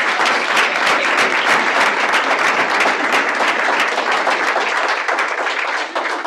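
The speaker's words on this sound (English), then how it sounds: "Let's give the ladies a big round of applause." Strong, continuous applause from an audience at a stakeholder meeting, many hands clapping close and loud with distinct sharp claps throughout, tapering slightly at the end.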